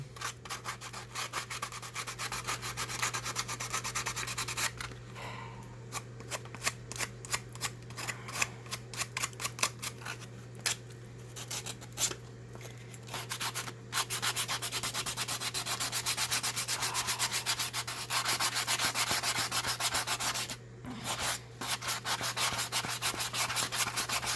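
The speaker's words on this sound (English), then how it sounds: "Sanding with the grain of the wood, making it easier." Steady rubbing of sandpaper over wood, continuous strokes back and forth with brief pauses, close up, under a constant low hum.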